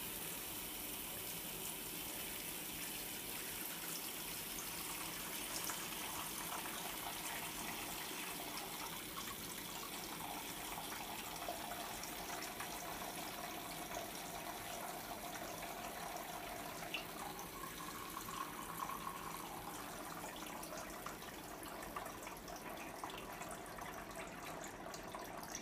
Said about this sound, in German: Wasser einfüllen